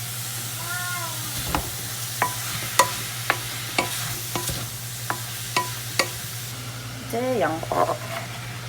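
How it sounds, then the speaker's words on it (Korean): Tofu, carrot and onion stir-fried in a pan, with a spatula scraping and knocking in a regular series of close clicks over a soft sizzle, plus brief speech near the start and end. "어느 정도 야채를 넣고 조금 볶아주시다가"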